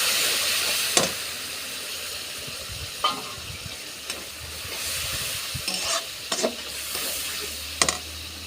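Prawns with spice masala and tomato frying in a pan, with a little water added, sizzling steadily while a spatula scrapes and stirs in several distinct sharp strokes.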